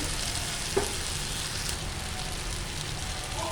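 Fried bitter gourd goes into a pan of sizzling tomatoes, giving a steady, even frying crackle that stays loud throughout, with one small clink near the start and no talking.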